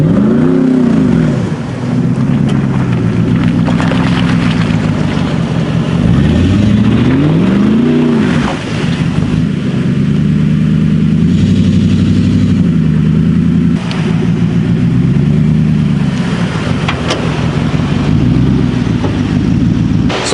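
A 2011 Ford F-150 Lariat Limited with a 6.2 liter V8 revs repeatedly, the loud, close engine note sweeping up and falling back in several distinct blips between steady running, with no speech.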